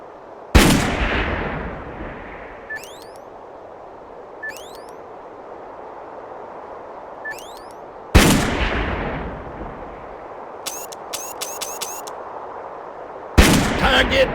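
Gunfire in the video game Darkest of Days: two loud, sharp cannon-like blasts several seconds apart, each with a long decaying rumble, plus a final blast near the end, with faint clicks and chirping effects in between.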